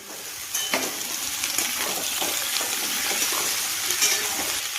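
Mixed vegetables sizzle and fry in a hot kadhai while being stirred, a steady close crackle with occasional scrapes of a utensil against the pan.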